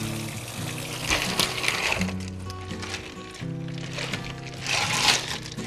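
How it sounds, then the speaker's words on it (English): Water drains and splashes out of a whole raw turkey in a kitchen sink, with uneven gurgling pours and a running-tap hiss, swelling and easing over several seconds, close by with no speech. "Make sure we get all the water out."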